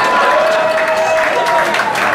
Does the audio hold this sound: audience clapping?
yes